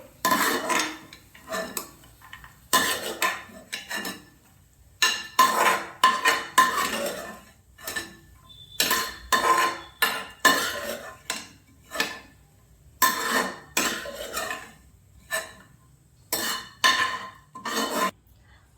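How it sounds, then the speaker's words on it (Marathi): A metal spatula scrapes and clinks repeatedly against a kadhai as ghee-fried dry fruits are moved into a dish, in short bursts of rasping strokes separated by brief pauses. "आपण ड्रायफ्रूट्स काढून घेऊ एका डिशमध्ये"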